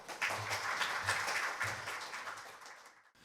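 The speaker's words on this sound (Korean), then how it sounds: "역시 박수로 모셔보겠습니다" An audience at a securities law forum applauds to welcome a lecturer, a dense, moderately distant clapping that holds steady, then tapers off and stops.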